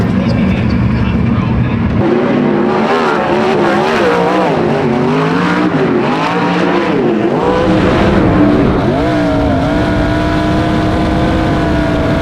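Dirt track race cars running hot laps at a night race, engines droning loudly and continuously with rising and falling revs as the cars circle, while a voice talks over them.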